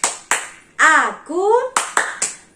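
Several sharp hand claps in a quick rhythmic pattern, alternating with a child's sung or chanted voice between the beats, at a Sunday school.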